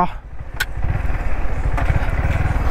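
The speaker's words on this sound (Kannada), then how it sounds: "ಎಷ್ಟು ಸೆಕೆಂಡಲ್ಲಿ ನಿಲ್ಲುತ್ತೆ ಅಂತ ಗಾಡಿ." A Yamaha MT-15 motorcycle with ABS brakes to a stop, its engine giving a steady, loud, close rumble throughout, with brief faint clicks above.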